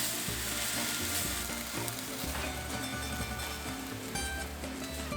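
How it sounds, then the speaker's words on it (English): Beef and celery stir-frying in a hot pan for Hawaiian-style beef tomato, a steady loud sizzle with intermittent scraping and stirring throughout, no voices. "Add the beef back in and stir fry it for about a minute or two."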